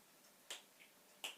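Two crisp, close finger snaps about three quarters of a second apart sound in a quiet room, with a fainter tick between them.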